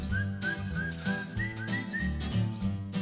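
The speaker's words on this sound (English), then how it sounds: "Who's that whistling? You? It is." A man whistles a cheerful tune, clear, close and melodious, the bright notes riding over a busy backing of bass and percussion music.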